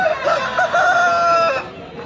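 A rooster or hen crows once at a Pileru pet market, a loud, drawn-out call lasting about a second and a half that then breaks off, with faint market background around it.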